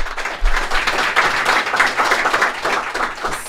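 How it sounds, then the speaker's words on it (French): A small group claps in a podcast studio. The applause is brisk and fairly close, with a steady patter of individual claps for a few seconds. "On peut leur donner une main d'applaudissement"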